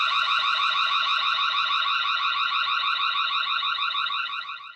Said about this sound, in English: you can have an alarm go off on the Home Hub